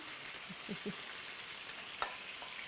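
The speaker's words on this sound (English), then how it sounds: "we are going to add our kale, first of all. I'll hold the bowl and I'll let you do the scraping" Kale scraped from a bowl into a hot pan, sizzling with steady frying hiss and a few soft scraping knocks near the start, close and moderately quiet.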